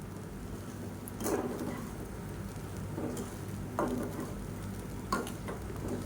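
Idli upma being stirred with idli podi in a pan: faint, sparse scraping knocks of a spoon against the metal, about four soft strokes over a quiet, low background hum.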